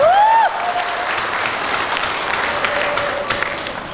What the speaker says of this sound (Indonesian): Berikan aplaus yang meriah untuk beliau